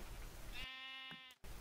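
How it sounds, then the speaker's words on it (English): A sheep bleats in a blocky survival video game, one clear wavering bleat of about three-quarters of a second that rises out of steady background game noise and ends abruptly. "Hello, Mr. Sheep, I need another wool."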